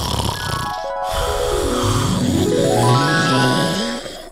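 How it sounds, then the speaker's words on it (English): In a Minecraft roleplay, one cartoonish snore sweeps downward and then climbs back up as a single long breath, loud and close, with no talking over it. "Melon's snoring"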